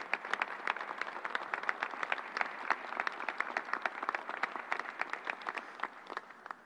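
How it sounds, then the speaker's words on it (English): A round of applause for the nurses, doctors, technicians and National Guard at the Javits mass vaccination site, a moderate crowd of many hands clapping in a dense, crackling burst that holds steady and begins to thin near the end. "Let's give them a big round of applause."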